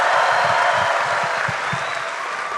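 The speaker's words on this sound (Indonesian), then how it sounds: "Boleh tepuk tangan lagi yang meriah buat Mas Gibran." Audience applause at an Indonesian national campaign consolidation rally for Gibran, a dense, steady wash of clapping that holds loud throughout without pause.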